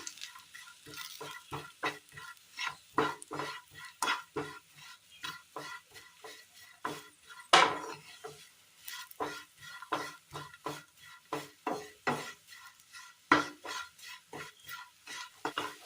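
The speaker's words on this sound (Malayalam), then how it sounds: "എല്ലാം നല്ലതുപോലെ മിക്സ് ചെയ്യുക" Spoon or spatula stirring and mixing roasted spice powders in a cooking pan, with quick, rhythmic scraping strokes repeating close up throughout and no voices.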